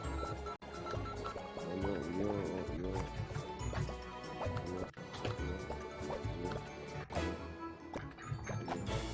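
Milk pours nonstop in a chaotic kitchen, a steady liquid stream with splashing and dripping buried under loud, dense background music and clatter.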